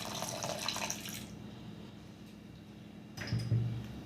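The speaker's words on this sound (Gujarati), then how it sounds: "તો આમાં આપણે થોડુંક 1/4 કપ જેટલું પાણી એડ કરી દઈશું." About a quarter cup of water poured into thick semolina batter for handvo, a close, splashy stream lasting just over a second, then quiet before a brief soft stir or clatter near the end.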